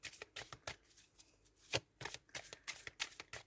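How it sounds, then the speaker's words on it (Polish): Oracle cards are shuffled and drawn during a tarot reading, giving soft rapid riffling and flicking sounds in quick repeated bursts close by, with a few sharper snaps. "Wyciągniemy po jednej karcie z wyroczni."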